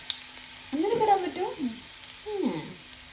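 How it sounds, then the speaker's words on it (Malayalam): Garlic fries in a pan with a steady low sizzle, overlaid by a couple of sliding, voice-like tonal sounds. "നമ്മൾ കടുകില്ലാത്തത് കൊണ്ടാണ് വെളുത്തുള്ളി ഇട്ടത്"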